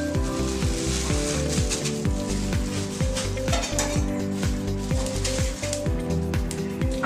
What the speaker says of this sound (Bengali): তো তিলটা আমরা প্রথমে একটু ভেজে নেব।